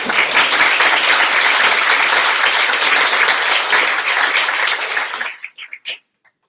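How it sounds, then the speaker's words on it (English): Audience applause at a community anniversary gathering in Toronto, a dense, loud wash of many hands clapping steadily for about five seconds before breaking off into a few scattered final claps. "So if I can give an applause to the brave men who made it up."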